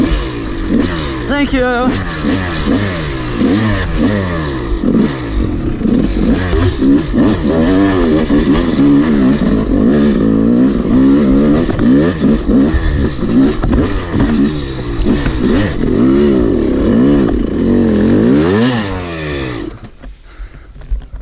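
Yamaha YZ 250 dirt bike engine running and revving loudly up close in the woods, with rising and falling rev sweeps throughout before cutting off near the end; a brief word is spoken.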